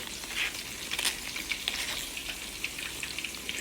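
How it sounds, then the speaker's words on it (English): Pork chops, one thin and one thick, sizzle and crackle steadily in a pan, a continuous frying hiss with small pops scattered throughout, close up and alone with no talking. "Them chops in there cooking, y'all."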